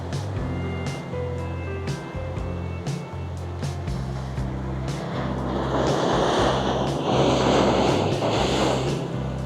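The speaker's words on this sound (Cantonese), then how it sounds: "同埋聽啲浪聲咧都好治癒" Large ocean waves break close to the shore at a seaside resort in China, a low steady surf swelling into louder crashing rush toward the end, heard without talk.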